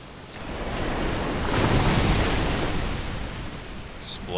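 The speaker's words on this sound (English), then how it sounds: "Explosion damage." Explosion with area-of-effect damage in the PC game Dark Souls, a broad rumbling blast that swells over a couple of seconds and slowly fades, loud and alone without talk.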